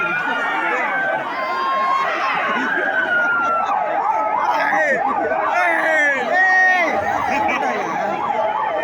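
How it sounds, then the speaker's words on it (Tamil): Ambulance siren wailing as it moves through a dense crowd at a political rally, its rising and falling tones loud and close over shouting and crowd noise, with a voice on a loudspeaker at times. "தயவு செய்து கொடி ஆம்புலன்ஸ் வழி விடுங்க"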